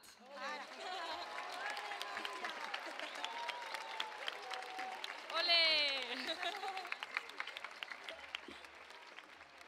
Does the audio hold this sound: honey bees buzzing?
no